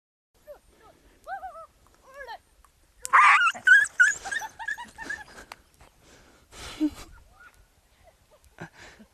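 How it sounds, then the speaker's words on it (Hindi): A dog shocked by a solar electric fence wire lets out high, sharp yelps and whimpers, then a burst of yips and growling cries as it runs off, fading to scattered faint whines. "हमारा कुत्ता जैसे ही वायर से टच हुआ उसे एक जोर का झटका लगा और वो कितनी तेजी से भागा"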